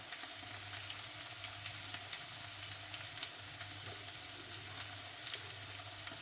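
Masala with coriander powder fries in a pan for tomato rasam, an even, close sizzle with faint crackles and occasional light stirring, alongside a low steady hum from the stove.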